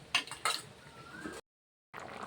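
A lid set onto a cooking pot of Bengali shukto vegetable stew, making two sharp metallic clinks close by, followed by a quiet stretch.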